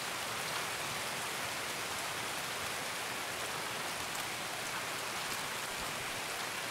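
Steady rain falling during a thunderstorm in the video game Escape from Tarkov, a dense, even hiss of drops with no talk, holding at a constant level throughout.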